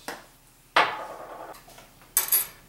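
A small pepper grinder is twisted over a scallop bruschetta mixture in a kitchen, giving two short, crisp bursts of crunching separated by a pause, with a light click at the start.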